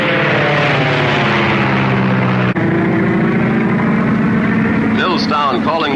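A propeller airplane takes off at night from an airfield in poor visibility, its engine drone loud and steady throughout with a rising roar toward the end, while people talk over it.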